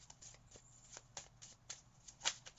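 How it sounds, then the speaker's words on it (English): Tarot cards are shuffled and drawn by hand, a quiet, close run of soft riffling flicks and slaps at an uneven rhythm, with no talking. "Let's just go ahead and find the last card"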